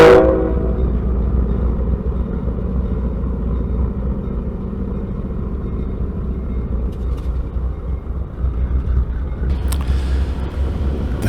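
A CSX freight train pulls up slowly, a low steady rumble and rolling rail noise holding throughout, with a brief sharper metallic clank near the end.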